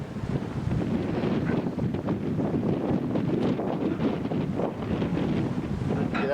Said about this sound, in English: Get out of the wind, Marie.